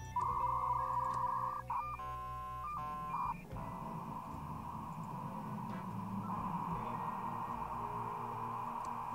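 In the video game Thimbleweed Park, an out-of-order payphone rings with a bright electronic warbling tone, broken into pulsing bursts partway through, then fades into a steady droning hum with no voices.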